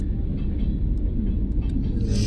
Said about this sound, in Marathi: आणि ही चालली ट्रेन